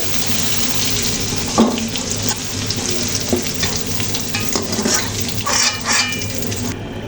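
Vegetables frying in a pan for a small fish curry with hooded beans and potatoes, a continuous close sizzle with intermittent stirring scrapes and small clatters throughout.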